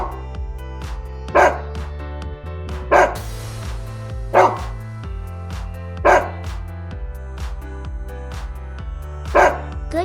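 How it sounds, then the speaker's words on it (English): A dog barks in single sharp woofs, five or six spaced a second or two apart over a steady low hum, fairly close and loud, with no talking. "D for dog"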